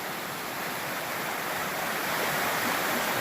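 Hurricane River at Pictured Rocks National Lakeshore rushes beneath a footbridge, a steady, close, broadband wash of flowing water that swells slightly toward the end, with no voices.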